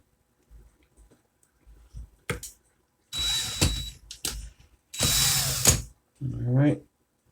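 A power drill running in reverse whirs in several short bursts, separated by pauses and quiet clicks and handling noises.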